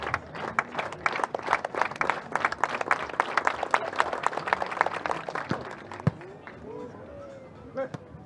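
Crowd clapping at an outdoor beach volleyball match, sharp rhythmic claps in a steady pattern under a commentator's voice, thinning out toward the end.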